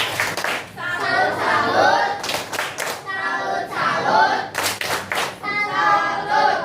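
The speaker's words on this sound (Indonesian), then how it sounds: "Tepuk salut." Junior high pupils in an algebra maths lesson perform the rhythmic classroom salute clap, tepuk salut: sharp bursts of group clapping in a set pattern, alternating with children's voices chanting together between the claps.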